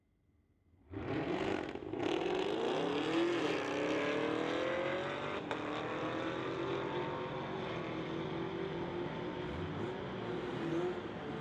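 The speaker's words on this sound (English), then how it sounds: "going against Keith Roberts in his 2021 Camaro ZL1" A 2021 Camaro ZL1 launches off the line in a street-legal drag race, its engine roar rising sharply then holding steady and loud as it pulls down the strip.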